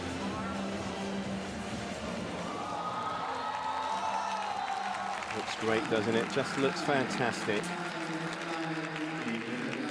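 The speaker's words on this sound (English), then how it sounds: "Hear the reaction from the crowd" Spectators cheer and applaud at a World Series diving event in Russia, a sustained crowd roar swelling after a dive, with a commentator talking over it throughout.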